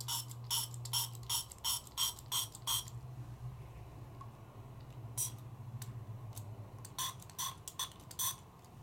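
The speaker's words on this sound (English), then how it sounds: "I'm just gonna spray that as opposed to trying to pour into that little hole." A mini mister spray bottle squirts water in quick bursts, a rapid run of about eight crisp sprays followed by a pause and then several more, close and clear with no talking.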